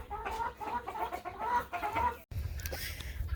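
Several chickens cluck close by in short, busy bursts, and the clucking carries on over a low background hum.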